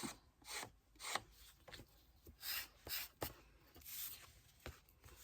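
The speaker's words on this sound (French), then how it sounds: "Un petit coup de lime." A scrapbooking card's edge is worked with a hand file, giving soft, close rasping strokes in uneven bursts with brief pauses between them.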